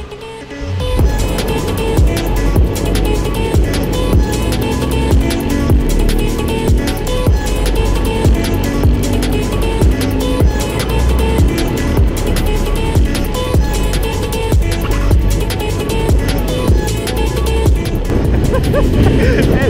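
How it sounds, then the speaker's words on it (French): Enduro motorcycle engines, including a KTM 690 Enduro R, rev and roar loudly and continuously, the pitch rising and falling as the bikes ride off. "on démarre les motos et c'est parti"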